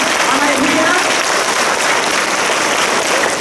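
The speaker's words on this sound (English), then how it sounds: "can you give our children a fantastic and a massive round of applause?" Loud, dense applause from a school audience at a sports assembly, steady and sustained throughout with no breaks.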